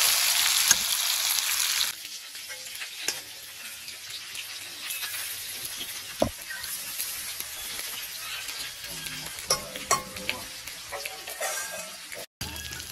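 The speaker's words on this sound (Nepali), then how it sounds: "अब यो प्याज एकछिन पाकोस्" Chopped onion sizzles steadily in a pan with black pork, a Dharan-style dish cooked with mustard greens. There is a loud hiss at first, then a softer, even frying sound with scattered spoon clinks and scrapes, and no talking.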